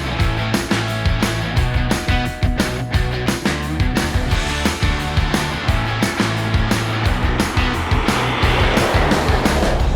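Ford Everest bi-turbo driving on the road while towing a van, a steady loud engine and road drone running throughout with no talk.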